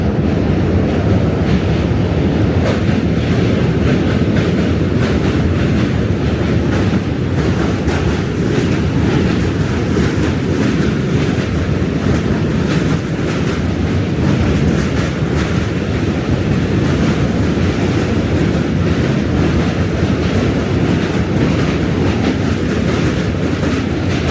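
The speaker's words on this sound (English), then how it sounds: "Train's coming." A train rumbles past close by on a New York City bridge, with a loud, continuous clattering roar that holds steady throughout.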